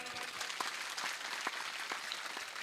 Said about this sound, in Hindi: तो इस मातृ शक्ति के लिए जोरदार ताली करते हैं।